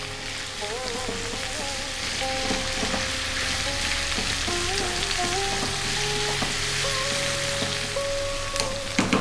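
Chopped onion and salt sizzle in a pan for egg curry, a dense steady frying crackle with occasional stirring scrapes and faint clinks, close and continuous without talk.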